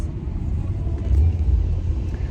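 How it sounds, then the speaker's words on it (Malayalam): A car drives to Padmanabhaswamy temple, and its steady low road rumble fills the cabin, swelling slightly midway, with no speech. "പാറൂസ് ഡ്രൈവിംഗ്"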